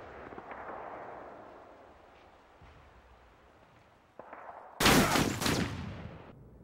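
Shotgun fire in Modern Warfare 2: a quiet stretch of game ambience with faint thuds, then a sudden loud, broad blast of gunfire near the end that cuts off sharply.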